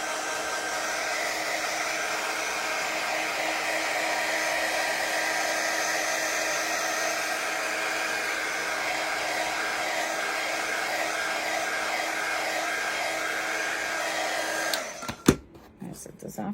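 A hair dryer blows steadily and loudly for about fifteen seconds, drying Chalk Couture paste on a tiered tray insert craft, then switches off with a couple of handling clicks.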